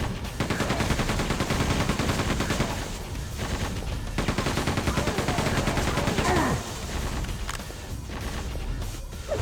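Rapid, dense gunfire and explosive crashes fill the Quake 2 video game, a loud, continuous barrage of overlapping shots with no pause over the whole stretch.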